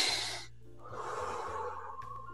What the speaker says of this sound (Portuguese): o som que ele ouve é a respiração e a expiração, a inspiração e a expiração.